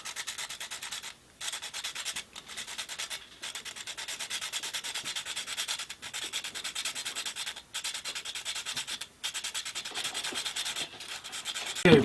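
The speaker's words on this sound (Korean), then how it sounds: "각진 부분을 끝에 부분을 이렇게 해서 갈아냅니다" Sandpaper rasps against the angled end of a handmade diagonal freshwater fishing float, close up and alone, in short repeated strokes with brief pauses between them.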